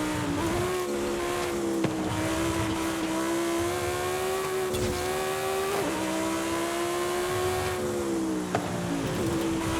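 Stock 1986 Ford F150 engine in Forza Horizon 5, a steady loud drone holding pitch with slight rises and dips as it drives, alone without talk.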